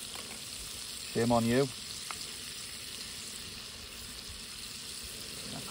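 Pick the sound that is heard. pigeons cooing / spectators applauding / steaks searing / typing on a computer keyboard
steaks searing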